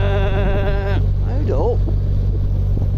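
A sheep bleats loudly and close by for about a second, heard on a narrowboat cruising the River Great Ouse, over a steady low engine drone with rustling and wind noise afterward.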